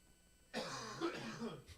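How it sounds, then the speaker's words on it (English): A burst of harsh coughing up close, a throat-clearing hack followed by a few rough, chesty coughs lasting about a second. "I'm coughing again, guys."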